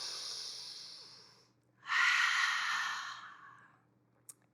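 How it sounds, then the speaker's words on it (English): Two slow, deep breaths during a yoga flow: a long airy exhale, a brief pause, then a fuller inhale-exhale, close and soft with no talking. "We're going to take one more breath here."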